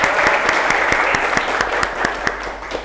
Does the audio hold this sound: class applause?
yes